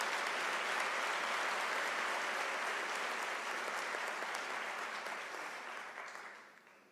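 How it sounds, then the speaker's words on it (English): Sustained audience applause for graduates at a University of South Africa autumn graduation ceremony, a dense, steady wash of many hands clapping in a large hall that holds strong before fading toward the end. "let us give our graduates who are sitting here a round of applause"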